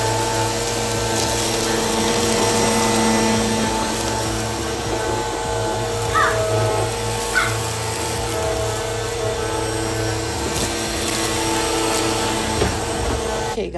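A Bissell PowerForce vacuum cleaner runs steadily on a hardwood floor in bare-floor mode, a loud continuous motor whine and airflow roar with faint rattles of crumbs being picked up.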